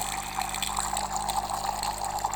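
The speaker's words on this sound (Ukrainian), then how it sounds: "Тепер у нас пішла гаряча водичка." A DeLonghi Magnifica S (ECAM 22.112) coffee machine dispenses hot water through its spout after the milk frother is switched off, giving a steady, close hiss and gurgle of flowing water over a low pump hum.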